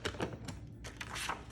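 A paper trimmer slicing cardstock mats, giving a few quick, close clicking and scraping strokes in short bursts, with no voices.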